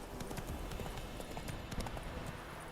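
Hooves of the horse Roach clip-clopping at a gallop in The Witcher 3, a rapid, even beat of hoofbeats over a steady game soundscape, moderately loud.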